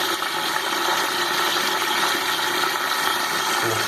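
A Shires high-level cistern toilet flushes with a steady, loud rush of water that fills the whole four seconds without letup, and no voices are heard.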